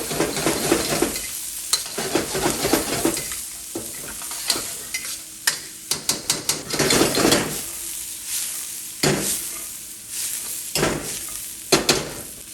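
Rice, vegetables and cashews stir-frying in a hot pot for pineapple fried rice, with steady sizzle broken by repeated scraping and clanking of a utensil against the metal, loud and close, no talking.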